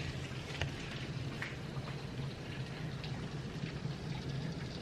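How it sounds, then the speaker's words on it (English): Steady rain pours in a dense, even hiss, with occasional sharper drips and a low rumble underneath. "It's raining."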